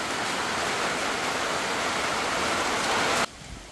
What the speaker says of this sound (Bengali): টিনের চালে বৃষ্টির শব্দ হচ্ছে।